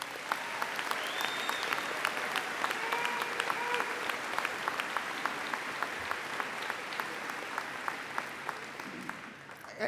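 A college commencement crowd applauds the graduating seniors, a broad, sustained wash of many hands clapping, fairly distant and even, with a few sharper claps standing out before it thins at the end.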